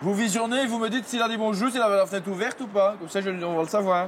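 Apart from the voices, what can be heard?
No distinct noise like a dog, phone or traffic.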